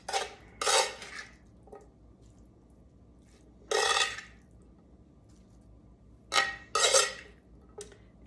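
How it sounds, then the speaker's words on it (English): Hamburger and sausage mix being added to a pan, heard as several separate bursts of scraping and clattering utensil against metal, spread out with quiet gaps between them. "And now I'm gonna add the rest of this hamburger and sausage combination"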